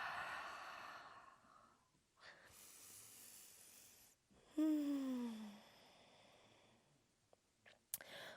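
Slow yoga breathing during a guided session, long drawn inhales and hissing exhales repeated in a quiet room, soft and close, with a brief tonal sound in the middle.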